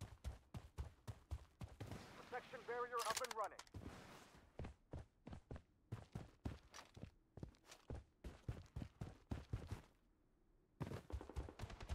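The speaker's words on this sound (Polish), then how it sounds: "O, strzały" Rapid bursts of gunfire in the PC shooter Blood Strike, sharp repeated shots in quick clusters across the whole stretch, with a brief louder flurry and a short lull near the end.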